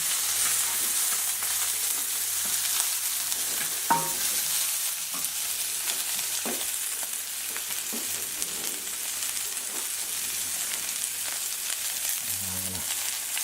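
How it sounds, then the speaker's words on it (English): A vegetable mixture stir-fries in hot oil, giving a steady hissing sizzle with a few scattered stirring knocks against the pan. "So we'll take half of our vegetable mixture, put in some nice hot oil. Stir that around for a minute or so."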